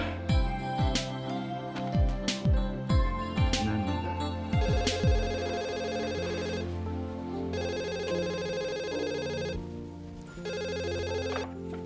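A telephone rings in bursts during a scene from the Indonesian soap opera Tersanjung, its electronic ringtone repeating in regular pulses over background music with plucked and struck tones, with no speech.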